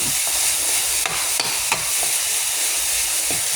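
Minced pork and holy basil stir-fried dry in a hot pan, a steady loud sizzle and hiss with a few sharp scraping strokes of the spatula cutting through.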